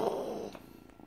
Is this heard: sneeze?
no